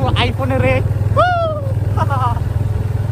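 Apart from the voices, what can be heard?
motorcycle being ridden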